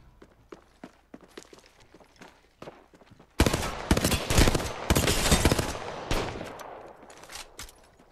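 Rapid bursts of automatic gunfire from Apex Legends video game combat, with the player taking hits; quieter scattered footsteps and distant shots lead into a sudden loud, sustained volley of shots and impacts that continues, then thins out.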